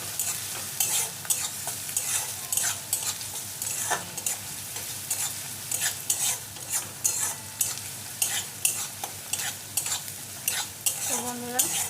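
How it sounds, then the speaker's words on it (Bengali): Onions frying in a pan for egg chops are stirred in a steady series of scraping strokes over a continuous close sizzle, with the occasional clink of utensil on metal. "পেঁয়াজটা একটু নেড়ে দেবো।"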